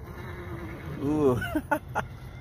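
A single wavering bleat, like a goat, rises briefly over outdoor background noise, followed by a few short fainter calls.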